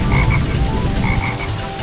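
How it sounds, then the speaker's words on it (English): Loud, steady croaking from a black frog in the Sonic Heroes game on GameCube, rising in two rasping bursts over a dense, continuous game background. "That black frog!"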